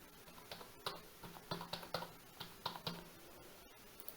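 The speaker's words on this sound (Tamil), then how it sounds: "அடுத்தது உங்களோட மொபைல் நம்பரை டைப் பண்ணுங்கள்" Keys clacking on a computer keyboard as a mobile number is typed in, a run of light, irregular taps with short pauses, close and fairly quiet over faint room noise.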